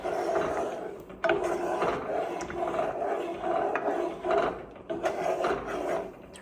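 A utensil stirs brown butter in a pan on a gas burner set to 4, a continuous close scraping and rasping with soft sizzle, in uneven strokes without talking.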